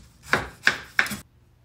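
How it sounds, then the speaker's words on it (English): Three crisp, evenly spaced knife chops cut through the tough base of a pineapple on a board, each a sharp close thud, then quiet. "Next, cut the bottom."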